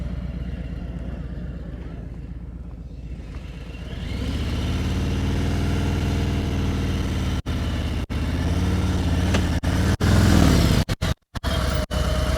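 A motorcycle engine idles low and steady during a riding lesson, then rises as the rider eases through the friction zone and pulls away, holding a loud, continuous hum with brief cut-outs near the end.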